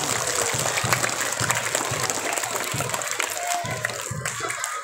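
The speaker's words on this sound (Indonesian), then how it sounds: "Tepuk tangan untuk semuanya." Children applauding during an Isra Mi'raj religious talk, a burst of scattered, uneven clapping with some background voices.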